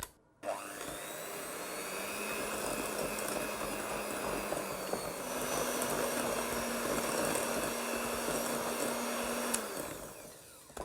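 Electric whisks beat butter and sugar in a bowl for a classic Victoria sponge, giving a steady, continuous whirring motor drone at close range that runs almost the whole time with a faint pitch shift partway, and no talking.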